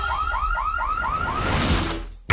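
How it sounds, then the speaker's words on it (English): Electronic alarm going off in a jail setting, a rapid series of rising whooping sweeps that repeat about every quarter second, loud and close, then breaking into a noisy burst before cutting off abruptly. "An alarm!"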